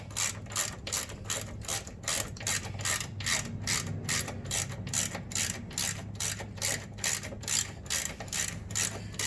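A hand ratchet snugs up passenger floorboard bolts on a 2019 Harley-Davidson Street Glide Special, giving a close, steady series of rapid clicking strokes over a low background hum, with no one talking.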